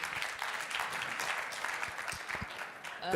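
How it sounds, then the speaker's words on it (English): An audience at a talk on land for production and investment breaks into steady applause, a moderately distant, continuous patter of many hands clapping that fades slightly toward the end. "That's round of applause for that contribution, please."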